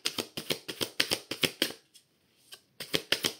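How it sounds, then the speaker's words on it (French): An oracle card deck is shuffled by hand in a quick run of crisp riffling flicks. After a short pause and a single soft tap, a few more shuffles follow, close and clear with no talk. "Allez, petite coupe avec Love."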